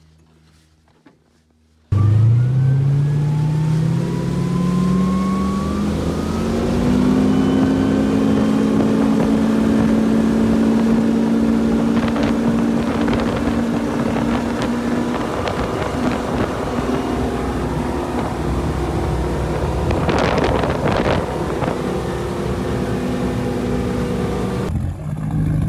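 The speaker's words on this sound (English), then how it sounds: "let's go ahead and take it for a little test drive" A car whose engine had been surging and not running is taken on a test drive, giving a steady engine drone with a rising whine as it accelerates and a few faint rattles and bumps, heard from inside the cabin with no talk.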